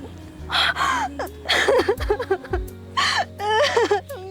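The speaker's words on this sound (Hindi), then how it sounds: "तुझे किसी की रोने की आवाज आ रही है?" Someone cries in a dramatized friendship story, with close, uneven sobbing gasps, whimpers and wavering moans over a low steady background hum.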